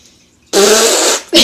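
A person imitates a fart with the mouth: a long, loud, buzzing raspberry followed by a shorter second burst, close up, with no other talk.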